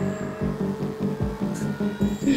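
Tense boss music from the video game Stray throbs with steady, low, pulsing beats under a sustained droning tone.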